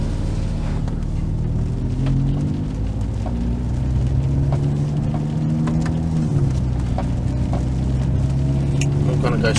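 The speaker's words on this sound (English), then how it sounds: "the sound inside the car is so good. The engine note" Inside a Mercedes-AMG CLA45 S on the road, the engine holds a steady, droning note that rises and dips in pitch with the throttle, heard close and continuous from the cabin.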